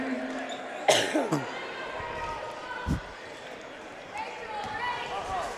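A commentator's short cough during a girls' varsity high school basketball game between Pleasant Grove and Syracuse, a sharp burst standing out over gym murmur and squeaking shoes, followed later by a ball thump.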